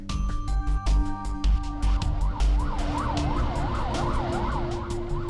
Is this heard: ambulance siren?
yes